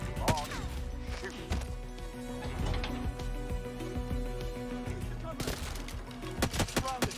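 Gunfire in 007 First Light, with repeated bursts of shots under music and game effects, dense at the start and again near the end.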